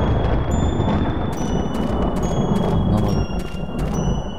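Thunder and heavy rain in The Happyhills Homicide horror video game roll on steadily as a dense, loud rumble, with faint tonal pings from the game mixed in.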